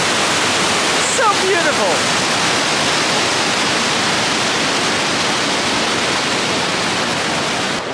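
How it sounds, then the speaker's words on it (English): A forest waterfall roars as a loud, steady broadband rush that fills the whole stretch without pause, close by and constant. A person briefly speaks beneath it. "We're getting close to the waterfall."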